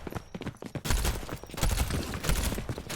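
Rapid bursts of video game gunfire from a shooter, with dense clattering volleys of shots packed close together in repeated strings, loud and close, with no voices over them.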